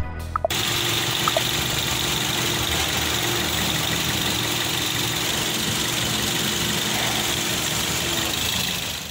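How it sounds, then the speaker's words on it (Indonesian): A Toyota Yaris G automatic idles steadily with a smooth, even hum that holds at a constant loud level for the full stretch, close up and with no voices over it. "Suaranya coba kita dengerin."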